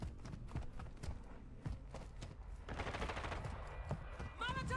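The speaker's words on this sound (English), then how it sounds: "there's shooting at someone in this building in front of us" Video-game gunfire aimed at someone in a building ahead: scattered sharp shots at moderate distance, rising into a denser burst near the end, under a low background of game noise.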